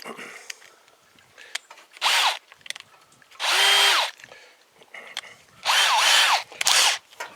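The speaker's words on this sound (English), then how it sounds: "Go up the next size drill." A power drill bores through heavy steel in four separate loud, whining bursts of one to two seconds each, close up, with quiet handling noises and brief talk between them.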